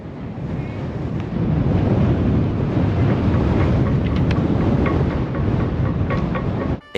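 Strong wind roaring around a sailboat mast, a loud continuous rush with steady buffeting and faint rigging rattles, no talk.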